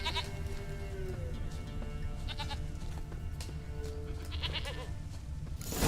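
A goat bleats a few times outdoors over a steady low rumble, with the short calls standing out at moderate distance against continuous background noise.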